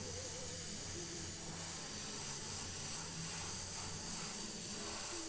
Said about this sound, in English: I should probably be doing this in the spray booth.